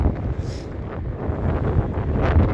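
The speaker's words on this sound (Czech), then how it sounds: "Fouká teda strašný vítr, no?" Strong spring wind buffets the microphone outdoors on a muddy trail, a constant loud roar and rumble with gusty swells and no voices.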